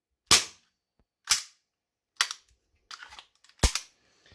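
Five sharp cracks from a VFC HK45 airsoft pistol firing, spaced roughly a second apart, close and crisp with quick decays and faint mechanical clicks between shots.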